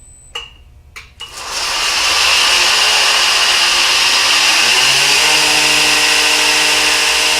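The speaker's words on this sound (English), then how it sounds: "Belt sander is all up and going," A homemade 7x72 belt grinder starts with a couple of clicks, then winds up into a loud, steady whirring hum of motor and running belt that holds continuously, with no talking.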